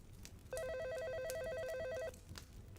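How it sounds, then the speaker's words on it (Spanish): A telephone rings once with a rapid, bright trilling bell pattern lasting about a second and a half, fairly faint over a quiet room background, then stops. "El teléfono sonó y mis ojos voltearon rápido hacia él."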